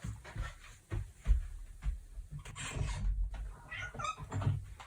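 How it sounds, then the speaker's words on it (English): A male cat meows indoors, several short calls near the end of the clip over soft rustling and handling noises. "One of my cats is calling me."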